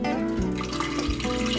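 Warm water runs steadily from a kitchen tap into a measuring cup, a continuous nearby stream with a few soft knocks, no talking.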